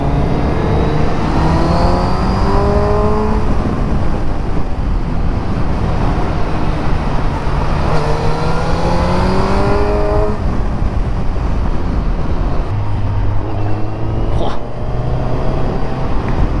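A Kawasaki Z1000 motorcycle accelerates through the gears, its engine pitch rising repeatedly and dropping at each shift, heard loud and close over constant wind rush.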